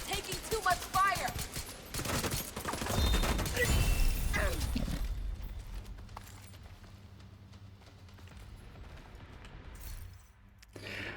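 Dense bursts of video game gunfire rattle for several seconds as a heavy fusillade, then fade into a quieter stretch of scattered distant shots and low rumble.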